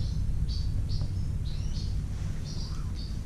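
A tame blue Quaker parrot chirps in short, high chirps spaced about half a second apart, fairly close, over a steady low background rumble.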